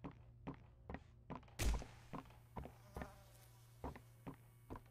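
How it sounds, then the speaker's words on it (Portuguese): Flies buzzing in the game Poppy Playtime Chapter 3, a faint high drone under a loud steady beat of rhythmic thumps, with one heavier thud partway through. "Ah, barulho das moscas."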